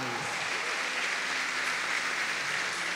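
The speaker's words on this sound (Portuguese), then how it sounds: "uma salva de palmas" Steady applause for a community group at a Catholic parish feast night honoring Saint Joseph fills the whole stretch, a dense, even wash of clapping from a sizable crowd with no break.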